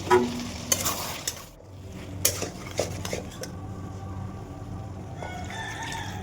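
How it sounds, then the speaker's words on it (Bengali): Spices and green jackfruit sautéing in a pan, with a low continuous sizzle under repeated metallic scrapes and clinks of a spoon stirring against the pan, close and fairly quiet. "ভালো করে কষিয়ে নিয়েছি মশলাটা, কাঁঠালটা দিয়ে দিলাম"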